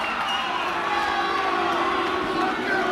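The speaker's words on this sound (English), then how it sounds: "We get the boos, and we get the cheer from Gerwyn" Crowd at a Champions League of Darts 2019 semi-final between Michael van Gerwen and Gerwyn Price, a dense arena roar of mixed boos and cheers that holds steady throughout.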